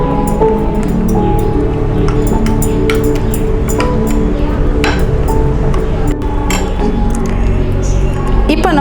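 Flaxseed dosa batter is mixed in a bowl, its soft squishing joined by frequent small clinks and pings of a utensil against the dish at a steady working pace, with a loud, constant background hum.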